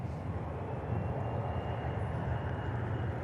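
An Embraer jet starts its takeoff roll at Manchester Airport, a low steady engine roar with a broad rumble that holds at a constant level, heard from a distance with no talking.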